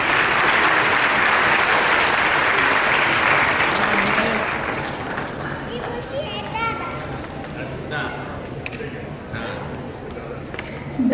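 Loud audience applause at a school award ceremony where the Chhattisgarh Chief Minister hands out medals, a dense roar for about four seconds that thins out, with children's voices and chatter coming through as it fades.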